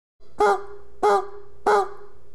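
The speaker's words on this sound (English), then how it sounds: "if you don't put enough air in, it'll just stay on that low first note" A goose flute call blown with too little air sounds three short, close honks in a steady rhythm, each staying on the low first note without breaking upward.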